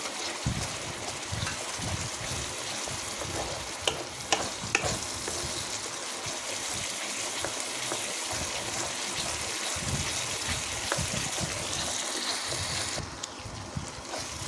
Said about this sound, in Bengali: এবার মশলাটা দিয়ে ভালো করে কষিয়ে দেবো